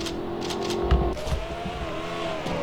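Race cars at Bowman Gray roar back up to speed on a green-flag restart, a loud, dense blend of engines revving and droning together, with one rising pitch sweeping through the pack.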